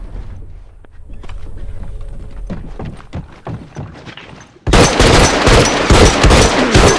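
Gunfire at clickers in the video game The Last of Us, sparse thuds and shots at first, then loud dense bursts of automatic fire in the final seconds.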